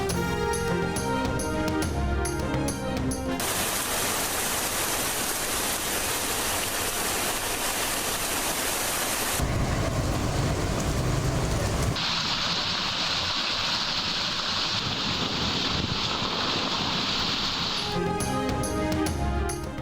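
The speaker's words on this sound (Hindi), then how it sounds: "मुख्तलिफ इलाकों में भी गरज चमक के साथ बारिश।" Steady broadband rain in a thunderstorm, dense and continuous hiss with shifting texture across the whole span, close and fairly loud, no voices.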